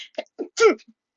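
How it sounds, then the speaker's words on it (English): A single sharp sneeze from a person, preceded by a couple of short breathy intakes, close and brief. "I've been attacked by a wild sneeze"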